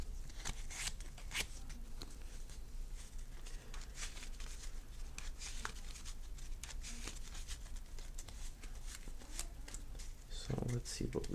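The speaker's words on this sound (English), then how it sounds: "we can shuffle these 3 back into the deck" Playing cards from a trading card game are shuffled back into a deck, a close, soft rustling and riffling that runs steadily throughout with a few sharper taps near the end.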